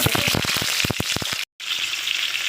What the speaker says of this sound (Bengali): তো দেখো, পটলটা এরকম করেই ভেজে নিতে হবে।